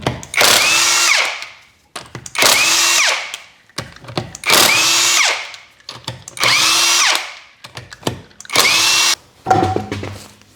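Impact wrench spinning lug nuts off the rear wheel of a Chrysler 200 during a rear shock replacement, five loud sustained whirring bursts of a few seconds each separated by short pauses, close and with no talking.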